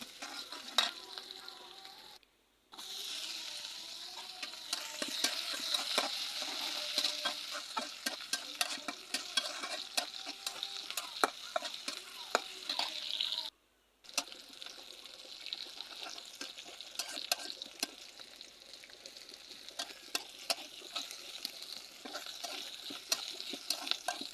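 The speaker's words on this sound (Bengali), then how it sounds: "আমি সবগুলো এবার একে একে তেলের সাথে ভেজে নেব" Chowmein ingredients fry in hot oil, giving a steady hissing sizzle with frequent light stirring clicks and scrapes. The sound is close but quiet, and it cuts out briefly twice. No one speaks.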